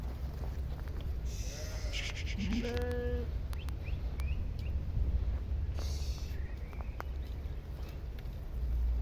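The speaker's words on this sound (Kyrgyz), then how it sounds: "Ошолор 3-4 айлык козулар" Three- to four-month-old female lambs offered for sale in Sokuluk let out a few short bleats over a steady, noisy outdoor background.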